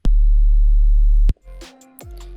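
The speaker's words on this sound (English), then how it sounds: "Now it just sounds like a sine wave." A pure sine-wave synth tone from Serum, with a noise oscillator assigned as a modulation source, holds steady and loud for over a second before cutting off abruptly, followed by fainter chirpy synth fragments.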